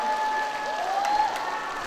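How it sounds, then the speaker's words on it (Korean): An audience at a KBS Ulsan women's singing class gives a steady round of clapping, fairly even and moderately loud, with a faint sustained tone from the hall's sound system running underneath. "힘찬 박수 부탁드리겠습니다"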